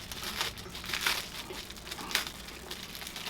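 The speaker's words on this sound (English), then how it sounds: "We're going to go ahead and take this plastic off" Close-up crinkling and rustling of thin plastic wrap being pulled and peeled off a Ricoma MT-1501 embroidery machine display unit, soft and continuous with a few sharper crackles.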